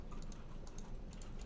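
Someone types the Ctrl+Shift+N keyboard shortcut on a computer keyboard, producing a few quick, faint key clicks in a quiet room.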